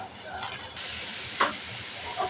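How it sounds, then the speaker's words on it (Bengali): Lentils fry with onions in a pan, giving a steady close hiss and sizzle with a couple of brief stirring scrapes and no clear talk. "ডালটাও পাঁচ মিনিট ভেজে নেব"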